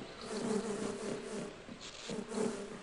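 A bee weapon in the video game Half-Life gives off a steady insect-like buzzing that swells and fades across a few seconds, close and fairly loud, with no talk.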